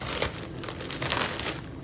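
Plastic packaging from a clothing parcel crinkles and rustles steadily for a couple of seconds, loud and close, with nobody talking over it.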